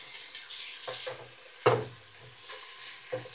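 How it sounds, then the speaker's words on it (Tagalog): Onions sauté in hot olive oil for a Filipino chicken lugaw, giving a soft steady sizzle broken by a few close stirring scrapes and clinks. "Gigisa natin muna ang sibuyas."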